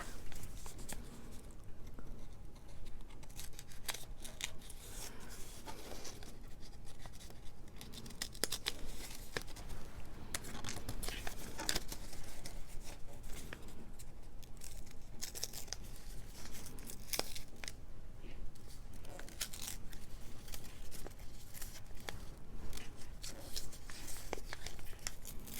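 Parchment paper being torn open to make a window in a junk journal page, with steady crinkly ripping and rustling sustained at close range throughout, with no voices.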